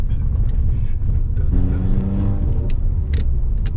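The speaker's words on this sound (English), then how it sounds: "all of a sudden this turbo kicks and it's like pow" Skoda Laura VRS turbo engine pulling hard under acceleration, a loud continuous rumble whose rising harmonic whine swells in the middle as the turbo comes in, with faint passing noise around it.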